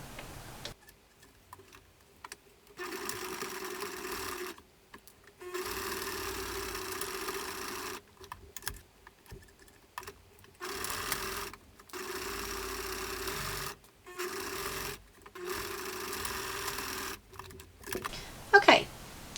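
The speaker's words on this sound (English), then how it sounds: "we are ready to start stitching our sides of our headband piece, leaving both ends open" Sewing machine stitching the side seams of a fabric headband, running in repeated bursts of fast, steady whirring and ticking separated by short pauses, close and moderately loud.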